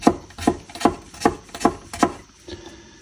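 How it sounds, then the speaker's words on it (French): Kitchen knife slicing garlic into thin slivers on a cutting board, six evenly spaced crisp taps in steady rhythm followed by a softer seventh, close and alone without talk. "je fais des petites lamelles comme ceci."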